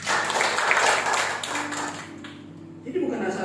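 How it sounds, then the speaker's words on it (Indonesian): A church congregation at a Sunday worship service claps for Jesus, a dense burst of hand claps that fills the first half and then thins out and fades while a voice carries on over it. "Tepuk tangan bagi Tuhan Yesus."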